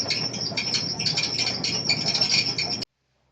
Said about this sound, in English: I like my dryer. Kind of noisy, isn't it? I call it my Tweety bird